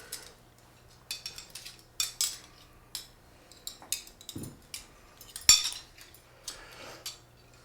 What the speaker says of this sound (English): you wanna put the silverware on?